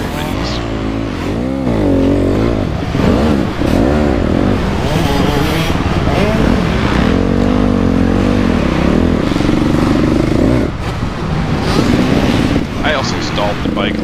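A 2008 Honda CRF250R dirt bike ridden around a motocross track, its engine loud and close with rising and falling revs and constant wind noise, and a voice talking over it.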